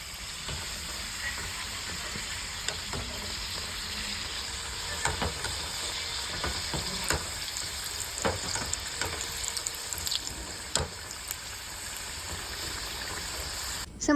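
Samosas frying in a pan of hot oil on a gas stove at home, a steady soft sizzle running throughout with scattered crackles and pops, occasional stirring or utensil clinks, and faint talk in the background.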